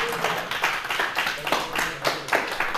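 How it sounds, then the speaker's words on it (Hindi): A church audience clapping during a sermon, rapid steady handclaps of moderate loudness with a faint voice underneath. "ताली भी बजा सकते हो आप"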